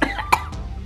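A short burst of coughs, two or three close hacking bursts within under a second, heard during a snack tasting.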